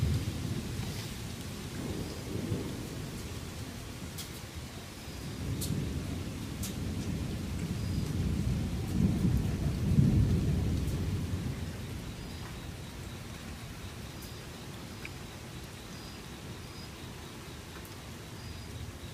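Thunderstorm with steady rain and rolling thunder, the deep rumbles swelling around the middle and easing off, no voices present.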